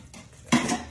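A spatula scraping and clinking against a dish while stirring a poppy seed chicken casserole mixture, two quick close scrapes, the second louder.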